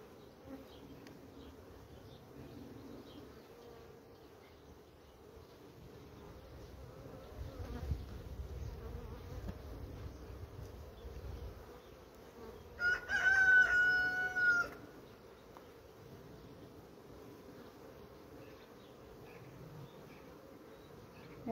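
Honey bees buzz around an opened hive during colony inspection, a steady low hum throughout, with a rooster crowing clearly in the background partway through.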